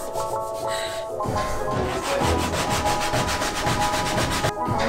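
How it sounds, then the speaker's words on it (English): Rapid back-and-forth sanding strokes with 400-grit sandpaper on an RX7 FD car body scrub rhythmically and close up, a steady raspy rubbing that continues throughout. "So much sanding happening right now."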